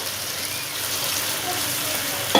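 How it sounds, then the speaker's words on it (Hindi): Onions sizzle steadily in hot oil with ginger-garlic paste, a loud, continuous broadband hiss of frying that holds throughout, ending with a brief clatter. "अब हम इसमें प्याज डालेंगे। प्याज़ों को हम हल्का सा फ्राई करेंगे।"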